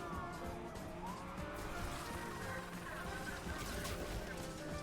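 Car engine revving with tire squeal as a Nissan 350Z drifts around a bend in the racing game Need for Speed Unbound, a steady loud stream of engine and skidding tires without a pause.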